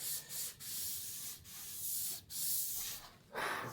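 Sandpaper rubs across a poly panel in a series of soft rhythmic strokes with brief pauses between them, close and fairly quiet.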